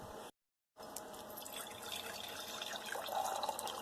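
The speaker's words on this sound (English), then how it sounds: "So I'm pouring this off into a glass container" Filtered cobalt chloride solution is poured into a glass container, giving a steady liquid trickle and splash that continues for several seconds after a brief gap of silence.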